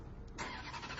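A Ferrari F430's 4.3-litre V8 engine turns over and settles into a steady, deep, low idle that continues evenly to the end.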